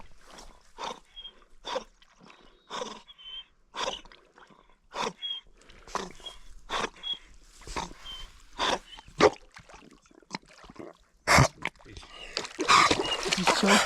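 A dog splashes and chomps at lake water while fetching a stick on a backpacking trip, giving repeated short close splashes and bites in an irregular rhythm, with people talking and laughing now and then.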